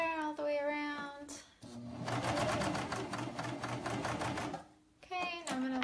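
A sewing machine runs a steady, rapid stitching burst for a few seconds while hemming a pair of knit shorts, close and loud, with someone talking before and after the run.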